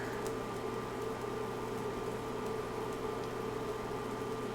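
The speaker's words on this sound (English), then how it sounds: "Oh, that's the blender" A kitchen blender runs steadily and moderately close throughout, a constant motor whir with a fixed pitch and no pauses, while cheese weenie bites are cooking nearby.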